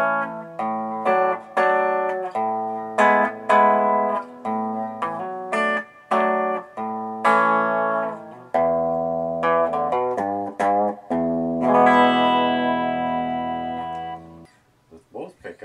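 A Dillion electric guitar played through a single pickup rings out in clean, distinct strummed chords and picked notes, each sustaining and decaying before the next, building to a longer ringing passage near the end.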